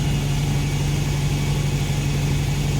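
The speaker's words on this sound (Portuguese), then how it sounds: "agora que eu vou deixar o carro funcionando parado" A parked Ford Del Rey with its engine left running at idle: a steady, loud, low rumble with a constant hum, heard close up and alone without any change in pitch.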